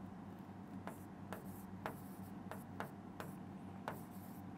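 Pen writing on paper in short scratchy strokes, about eight quick strokes in an irregular rhythm, close and soft over faint background hum.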